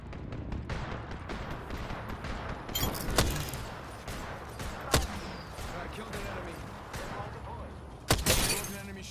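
Gunfire crackles through a match of the Apex Legends video game, with scattered shots and a few sharp louder reports over game audio and a voice talking.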